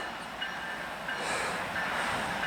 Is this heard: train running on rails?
yes